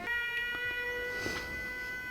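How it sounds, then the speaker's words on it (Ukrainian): An air raid siren in Ukraine sounds as a steady tonal wail, with layered sustained pitches holding evenly throughout. "Увага! Повітряна тривога."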